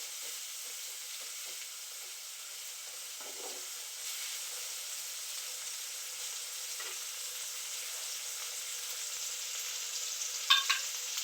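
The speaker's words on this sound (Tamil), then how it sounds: "இஞ்சி பூண்டு பேஸ்ட் கொஞ்சம் போட்டு நல்லா வணக்கி விடுங்க." Onion, tomato and ginger garlic paste sautéing in a hot pan for a chicken gravy, giving a steady close sizzle and hiss throughout with faint stirring scrapes and a few small clinks near the end, with no talking.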